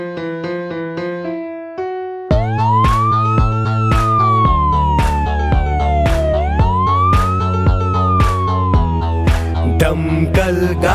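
A cartoonish fire engine siren wails, sweeping up and down twice over bouncy children's song music with steady beats, loud and continuous.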